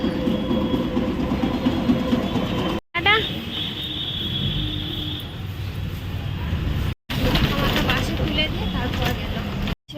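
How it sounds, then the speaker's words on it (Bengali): A tram rumbles past on rails with a steady mechanical roar, a brief squeal of wheels on track, and clattering noise throughout. "ট্রাম দেখলাম গো"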